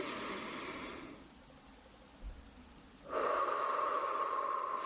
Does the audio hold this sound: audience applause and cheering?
no